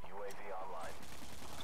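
Shotgun blasts in Call of Duty Modern Warfare 2, a few short sharp shots fired amid in-game effects, faint and brief with no clear talk over them.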